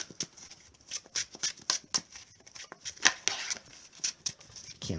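Magic: The Gathering cards are shuffled by hand close up, a quick run of crisp riffling snaps and flicks at an uneven pace with no talk.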